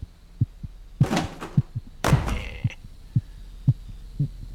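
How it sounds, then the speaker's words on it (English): Steady game heartbeat from The Cat Lady, low thumps repeating about every half second, with a couple of louder broadband clatters over the top partway through. "With the heartbeat."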